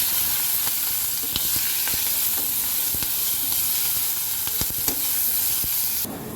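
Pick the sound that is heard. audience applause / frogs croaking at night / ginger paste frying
ginger paste frying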